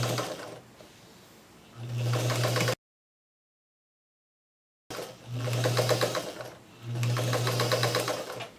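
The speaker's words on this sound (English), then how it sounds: "I'm going to sew these on just the same way as I have before" Sewing machine stitching batik fabric strips for a twisted log cabin quilt block, running in two steady bursts of rapid needle hum separated by a pause, close and alone with no talk.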